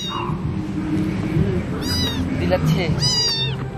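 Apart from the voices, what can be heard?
cat meowing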